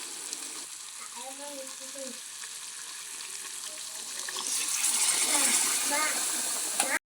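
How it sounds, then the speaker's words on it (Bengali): Hot water is poured into chicken curry frying in a pan, and its sizzle rises into a loud, steady hiss and bubbling over the last seconds, with a voice talking briefly near the start. "তো এবারে আমি জল দিয়ে দেব। তো গরম জল দেবো"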